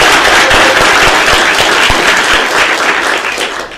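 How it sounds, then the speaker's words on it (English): Loud audience applause at the close of a talk on data visualization tools, a dense steady wash of clapping from a full room that tapers slightly toward the end. "A round of applause for Tom,"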